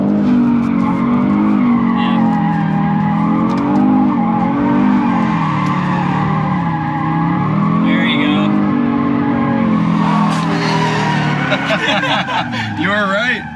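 Audi RS3 sliding with oversteer, tires squealing in a long wavering howl over a loud engine drone, close and continuous, with voices talking underneath.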